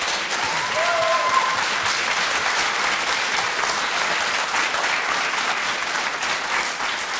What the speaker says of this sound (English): Loud applause and whoops from the medical students on my right